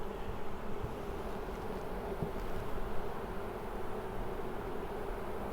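Honey bees at an opened hive with young larvae and brood make a steady, dense buzzing hum that holds constant and close throughout.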